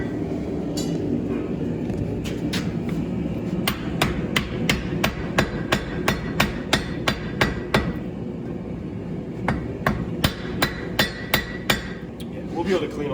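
A hammer forges a giant bronze sword blade, striking close and hard in a steady rhythm of ringing blows, with a brief pause partway before the strikes resume.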